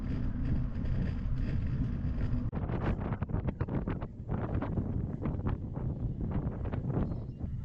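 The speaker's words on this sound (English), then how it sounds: "It's a bit windy this morning" Wind buffets the microphone in strong, uneven gusts, a constant roaring rush with sharper pulses in the second half.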